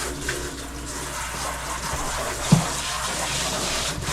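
Water drains steadily from the drum of a smart cat litter box through a small hole during cleaning, a continuous close wash of flowing water broken by one brief soft knock.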